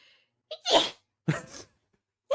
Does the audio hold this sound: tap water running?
no